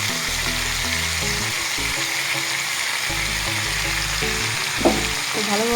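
Fish fries with a prepared paste in a pan for shukto, a dense continuous sizzle heard up close with occasional stirring scrapes and no talk over it.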